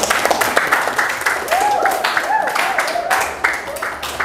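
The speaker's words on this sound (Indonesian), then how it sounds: "Tepuk tangan." Scattered clapping from a classroom of students during a programming lesson, uneven and moderately close, with voices chattering over the claps throughout.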